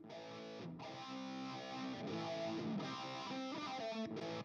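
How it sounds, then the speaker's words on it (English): Distorted electric guitar chords with an 80s tone ring out with a spacious reverb tail, steady and loud, with brief gaps between phrases. "This is the reverb that I have on the right guitar."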